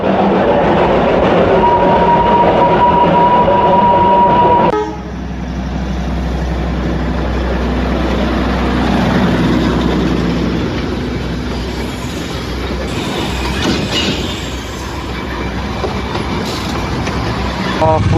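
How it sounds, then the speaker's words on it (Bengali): A train rolls past near a petrol pump on a hill road toward Darjeeling in North Bengal, a loud steady rumble with clattering wheels that sets in abruptly and carries on close by to the end. "ট্রেন যাচ্ছে।"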